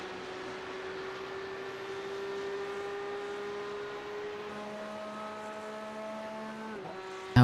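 Porsche Cup race cars at Road America, a steady engine whine with sustained tonal drone shifting in pitch as cars pass, ending in a sudden loud burst.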